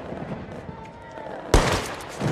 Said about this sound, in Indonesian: Mendengar suara tembakan tersebut